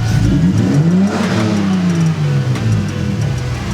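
A BMW E46 with a blown head gasket revs up hard, its engine pitch climbing and then slowly falling back toward idle, loud and close, running continuously throughout.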